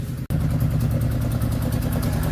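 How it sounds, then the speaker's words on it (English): A Datsun 120Y's steady idling engine with a rapid, rhythmic ticking and puffing from an exhaust manifold gasket leak, close and loud, after a brief dropout at the start. "there's a mad manifold gasket leak"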